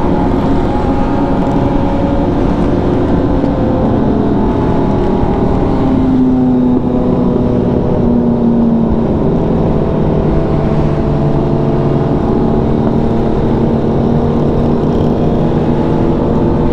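Several motorcycles ride together in a slow group, engines droning steadily and loudly throughout with constant rumble and shifting tones as bikes cruise along.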